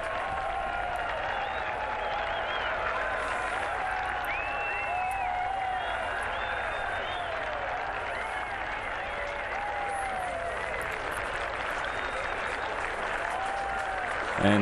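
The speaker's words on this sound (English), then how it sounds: "He's wondering if that applause is for him." Spectators at The Memorial Tournament golf event applaud from around the course: a sustained, fairly distant wash of clapping and crowd noise that holds steady throughout.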